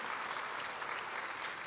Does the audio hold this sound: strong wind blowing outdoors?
no